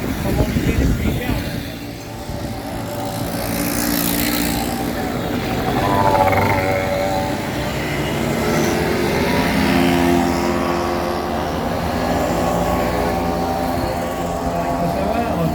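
An old, rusty two-stroke moped engine, one of several mopeds and small cyclomotors at an outdoor gathering, runs with a buzzing, uneven drone that swells and eases as the throttle varies, with people talking nearby.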